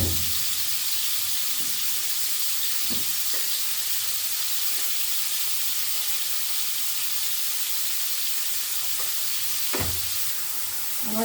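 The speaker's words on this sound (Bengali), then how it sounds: "আমার ব্রোকলিটা সাতলানো হয়ে গেল, খুব কড়া ভাজলাম না, এইরকম একটু সাতলানো ভাজা করলাম।" Broccoli sautés in a pan with a steady, even sizzle throughout, broken by a few soft clinks and stirring knocks, close and moderately loud with no voices.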